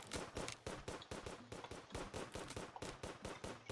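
Rapid bursts of gunfire in a tower defense video game, rattling off in steady automatic volleys throughout, faint and continuous with no pauses.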